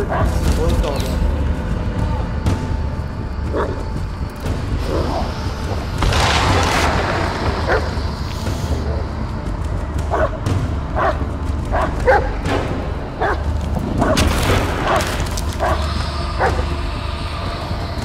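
A dog barks in the Blair Witch horror video game, with sharp yips and barks scattered through a long stretch of loud game noise and occasional booming thuds.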